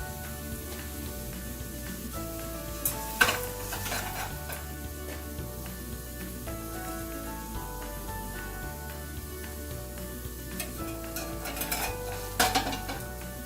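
Cumin and turmeric red potatoes frying in a pan, a steady sizzle under clinks and scrapes of a utensil stirring against the pan, with no voices.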